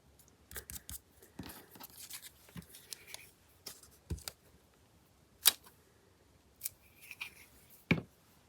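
Scissors trim paper for a handmade envelope and file-folder journal cover, heard as several separate close snips and sharp cuts spread through a quiet room, with soft handling rustles between them.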